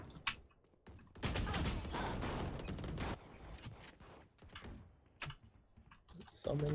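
Vandal rifle fire in Valorant, rapid dense bursts of shots in a fast clattering run, loudest in the middle stretch and then breaking into scattered shots and clicks as players talk over it.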